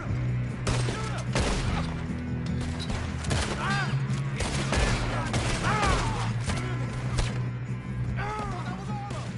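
Gunfire erupts in the Red Dead video game as rapid, overlapping shots and sharp cracks ring out continuously, while people shout and talk over the shooting.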